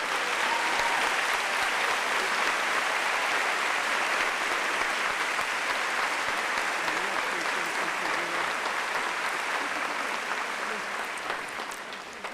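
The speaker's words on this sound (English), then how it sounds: "How about a long round of applause for all these people" A large audience at a high school graduation ceremony claps in sustained, dense applause that holds steady for about twelve seconds before slowly thinning toward the end.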